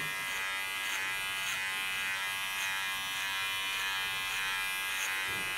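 Electric hair clippers run steadily close by while cutting an ultra-short pixie hairstyle, a constant even buzz with no talking.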